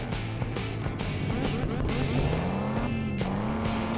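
Engine of a racing car in a video game roaring steadily with shifting pitch, with tire squeals and brief skids layered over the drone.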